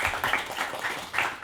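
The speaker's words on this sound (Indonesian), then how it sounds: "Boleh dong kasih tepuk tangan." A panel-talk audience applauds, a short, dense burst of clapping heard close and fairly loud.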